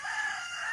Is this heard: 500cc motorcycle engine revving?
no